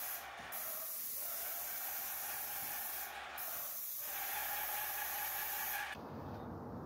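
A paint sprayer hisses continuously while coating an interior wall with paint during a home remodel, with brief dips and a shift in tone near the end.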